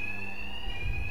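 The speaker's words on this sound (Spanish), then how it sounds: "Estos matones no pueden oír nada por las alarmas" Alarms ringing in the video game Batman: Arkham Knight during a robbery, a steady high electronic tone sounding continuously over a low rumble.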